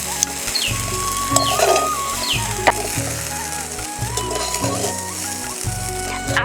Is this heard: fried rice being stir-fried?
yes